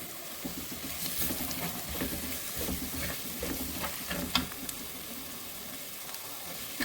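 Curry leaves drop into hot oil in a pan for a spicy crab roast and fry with a continuous close sizzle and crackle, stirred now and then, with scattered pops and spits throughout.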